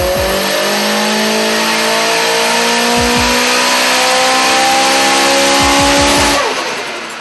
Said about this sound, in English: we put it on the dyno at Street Talk and entered the dyno comp. After a quick warm-up, we ran the car on 23 pounds of boost